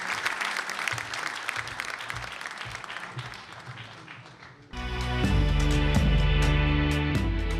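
Audience applause at the Zhurma Show Awards 2012 ceremony, first a dense crowd clapping for about five seconds, then giving way abruptly to loud stage music with heavy bass that carries to the end.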